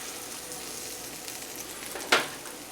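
Cajun-seasoned tilapia fillets sauteing in a pan, giving a steady soft sizzle with one brief louder hiss near the end.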